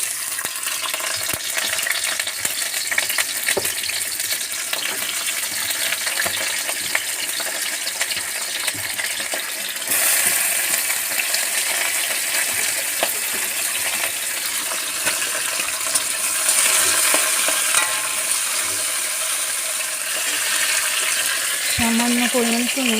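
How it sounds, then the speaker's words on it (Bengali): Close, dense sizzle of sliced pointed gourd frying in hot oil in a pan, with intermittent stirring scrapes and clinks running throughout and a brief knock near the end. "কড়া গরম হয়ে গেছে, তেল দিয়ে দেবো। কেটে রাখা পটলগুলো দিয়ে দেবো।"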